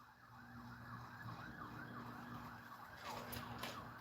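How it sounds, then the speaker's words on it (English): Wailing emergency sirens rise and fall steadily over a constant low engine hum, somewhat distant, with no talking. "I hear the sirens out there"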